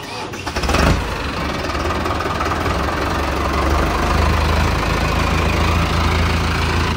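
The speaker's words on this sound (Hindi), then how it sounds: "तो भाई ये हमारा पहला ट्रैक्टर निकल रहा है" Tractor engine, an Eicher 485 on a farm, starts with a loud crank and then settles into a steady heavy diesel rumble close by, running continuously as it moves off.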